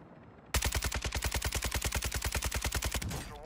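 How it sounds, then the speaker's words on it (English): Sustained automatic gunfire in the Call of Duty Modern Warfare II DMZ mode, a rapid, evenly spaced burst of loud close shots lasting about two and a half seconds before cutting off. "They're shooting me."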